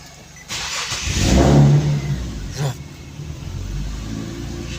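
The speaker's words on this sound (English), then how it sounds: "Let me start the vehicle." A Nissan Skyline with a VQ37 V6 and a misfire fault cranks and starts, its engine note rising sharply then settling into an uneven, fluctuating idle, close and loud with no talk.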